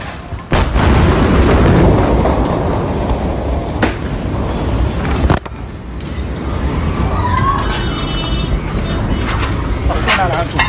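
At the Beirut port explosion, a loud heavy boom hits near the start and a second blast follows midway, leaving a deep rumbling roar while people talk and call out nearby.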